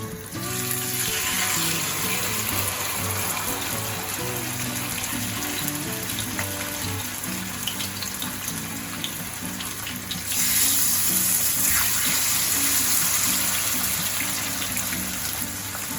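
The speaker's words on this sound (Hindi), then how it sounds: "जैसे ही ऑयल गर्म हो गया है, अब हम इसमें डालेंगे फिश। सबसे पहले हम स्किन वाली साइड नीचे डालेंगे।" Fish fries skin-side down in half a cup of hot oil in a pan, a loud, steady crackling sizzle close by that swells louder partway through.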